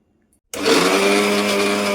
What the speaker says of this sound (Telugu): అన్నిటినీ సన్నం కాకుండా కొద్దిగా బరకగా మిక్సీ పట్టుకుందాం.